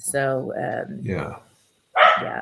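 A dog barks a few short times near the start, mixed in with a person talking over it.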